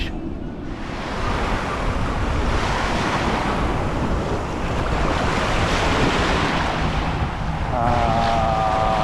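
Steady roar of surf and gusting wind at Dog Beach on a Florida trip, heavy wind buffeting the microphone and a voice briefly heard near the end.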